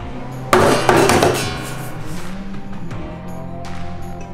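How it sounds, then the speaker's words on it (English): A one-inch, 143-gram steel carbide ball dropped from 18 inches strikes the body of a PRS P20 parlor acoustic guitar with a sharp knock, followed by a quick second bounce and a ringing resonance that fades. "dropping a 1-inch steel carbide ball 18 inches onto the top and back of the guitar"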